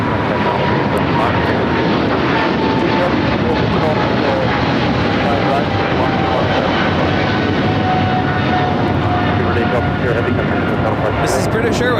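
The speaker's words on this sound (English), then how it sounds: "This is British Airways 282 taking off to London Heathrow on the 777-300ER." A British Airways Boeing 777-300ER takes off at LAX with a loud, steady roar of jet engines that holds for the whole stretch, while a voice talks over it.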